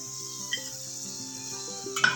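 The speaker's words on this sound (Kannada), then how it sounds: "ಈಗ ಅದೇ ಬಾಣಲಿಗೆ ಬೆಳ್ಳುಳ್ಳಿ ಹಾಕ್ಕೋತಾ ಇದ್ದೀನಿ" Garlic fries in a pan while an avarebele snack mixture is made, giving a steady, close sizzling hiss beneath a sustained tonal hum, with a couple of faint utensil clinks.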